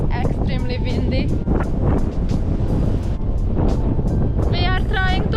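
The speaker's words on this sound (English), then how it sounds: "I hope you can hear me because it's extremely windy." Strong wind buffets the microphone at a dam beside the water, a loud continuous roar under which a person talks throughout.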